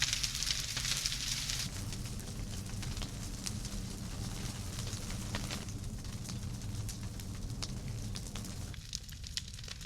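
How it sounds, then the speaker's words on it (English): A large, dry bonfire of storm-wrecked fence debris and soil-caked stumps burns outdoors, giving a steady, dense roar of flame with frequent sharp crackles and pops throughout, fairly close and continuous. "It's a pretty big bonfire and it's pretty dry,"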